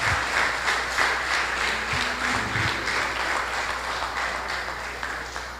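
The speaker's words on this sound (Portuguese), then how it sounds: "E agora você vai aplaudir o Senhor" A church congregation applauds in worship, producing sustained even clapping from many hands across the room, with a few faint voices underneath.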